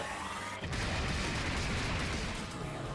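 Explosion effect from a Granblue Fantasy Versus special attack, a loud sustained rumbling blast that swells after a brief dip and holds steady for several seconds, dense and noisy with no speech over it.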